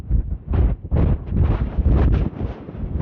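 Strong gusting wind buffets a handheld phone microphone on an exposed mountain ridge above Lovell Canyon, Nevada, a loud continuous rumbling roar that surges and dips throughout, with no voices.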